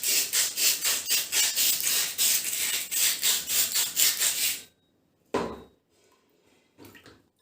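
An electro-coated scrubber sheet rubbing rust off a metal rod in rapid rhythmic strokes, loud and close, then a pause followed by two shorter bursts of scrubbing.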